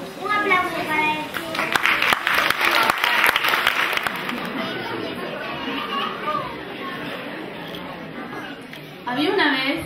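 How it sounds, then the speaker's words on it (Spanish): Applause at a school festival performance of a fish-and-sharks play in Pontevedra, sustained clapping mixed with children's chatter and playful voices, fairly close and lively throughout, with a brief louder burst near the end. "Un aplauso para él."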